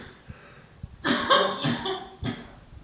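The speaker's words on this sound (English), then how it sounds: "Sorry, I got a bit of a cough today." A man's cough bursts out in a short cluster of three or four harsh, close hacks, after a faint throaty sound and a light breath; he has a bit of a cough.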